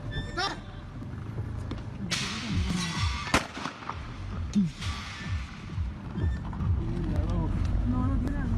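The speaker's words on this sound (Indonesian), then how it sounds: "seorang pria yang sedang menembakkan pistol ke arah toko tersebut hingga kaca di bangunan itu pecah" Pistol gunshots fired toward a shop front, with sharp cracks and bursts of glass shattering over a busy, crowded background of voices and street noise.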